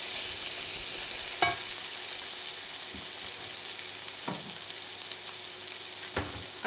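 Onions fry in a pan over medium heat with a soft, even sizzle, and a few sharp clacks of a utensil against the pan sound at spaced moments.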